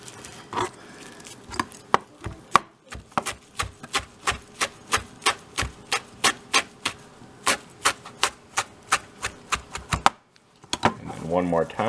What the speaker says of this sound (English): The first thing we're gonna do is chop up the cilantro